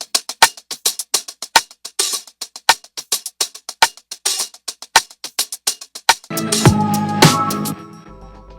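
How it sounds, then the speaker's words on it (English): A crisp hi-hat loop ticks in a steady rhythm, with short sharp hits, before a denser burst of drums and cymbals swells near the end. "Another hat loop."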